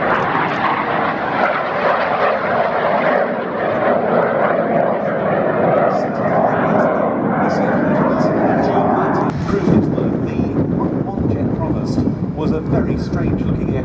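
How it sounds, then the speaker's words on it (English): Propeller aircraft flying at the Duxford air festival display, a loud continuous engine drone that shifts in tone partway through, with commentary over it. "Very strange looking aircraft indeed."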